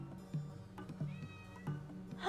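A domestic cat meows close by in a string of short, tonal calls, several clear meows in quick succession with brief pauses between them.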